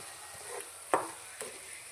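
Drumsticks are stirred into softened cooked onions in a pan, with a low sizzle and a few distinct scraping stir strokes close by.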